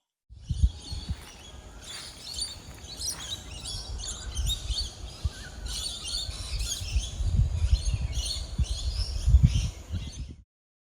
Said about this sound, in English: their garden is filled with birds